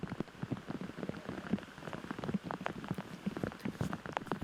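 Steady rain patters across a disc golf course during a championship final round, a dense continuous hiss of drops striking surfaces close by, with no voices over it.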